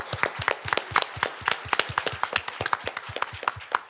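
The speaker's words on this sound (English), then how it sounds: "Let's give them a round of applause." A small audience claps steadily for a few seconds, the individual hand claps crisp and distinct, close and fairly loud.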